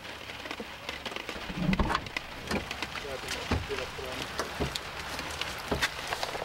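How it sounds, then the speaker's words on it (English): Steady rain pattering on surfaces outdoors by Maligne Lake in Jasper National Park, a dense hiss of drops with scattered sharper taps, moderately loud and continuous throughout. "it appears the rain is not going anywhere"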